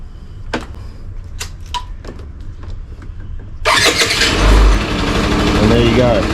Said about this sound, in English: So the bike will still run and start.